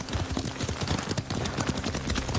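Horse hooves in the video game Ghost of Tsushima, a steady rapid clip-clop of galloping on ground, dense and continuous with no voices.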